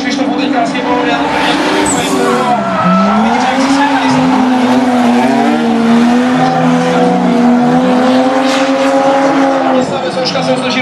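A Mazda drift car fitted with a Toyota 2.5-litre engine squeals its tires through a long skid at a drifting event, the engine wailing and shifting pitch near and loud while a commentator talks over it.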